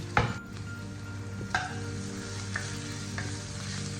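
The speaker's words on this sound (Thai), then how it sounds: "เราก็ใส่ขิงลงไปค่ะ ไปผัดกับกระเทียมเลย" Ginger stir-fried with garlic in hot oil for a fish dish, a soft steady sizzle with a few sharp spatula scrapes against the pan, fairly quiet and close, no talking.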